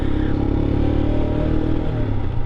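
A 2022 Royal Enfield Himalayan motorcycle engine runs steadily up close, a loud continuous rumble with a faint mechanical clatter and no change in pace.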